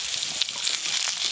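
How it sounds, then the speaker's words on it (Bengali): Eggplant pieces sizzling lightly in hot oil left over from frying prawns, a steady close crackle and hiss throughout with small pops, no voices. "একই তেলে বেগুনগুলো হালকা করে ভেজে নেবো"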